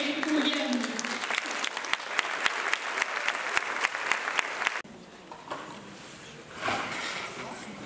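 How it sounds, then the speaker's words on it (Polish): Audience applause at a 30th-anniversary celebration of a local PSONI association, dense and steady clapping for about five seconds that stops abruptly, leaving quieter room murmur with a few scattered sounds. "Już zapraszam, wielkie brawa."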